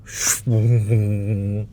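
A breathy rush, then a voice imitating a Mercedes-Benz C350e plug-in hybrid's 2.0-litre turbo engine kicking in, a low sustained droning hum with slight wavering, heard up close.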